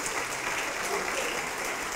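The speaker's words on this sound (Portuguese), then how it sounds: "Vamos aplaudir mais, igreja." Church congregation applauding during a worship service, a steady dense wash of clapping throughout, moderately loud and continuous.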